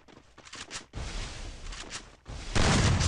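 Gunfire from a Free Fire-style battle royale championship match played on an emulator, with bursts of shots and impacts crackling at moderate loudness, intensifying into a dense volley at the end.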